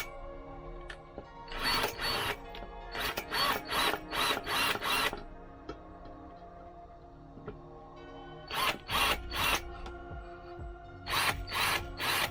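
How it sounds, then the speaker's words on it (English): A power drill drills out rivets on a Hoover Constellation 862 vacuum cleaner, in short loud bursts of whining drilling separated by pauses with faint mechanical handling noise. "we can just start by drilling out these rivets"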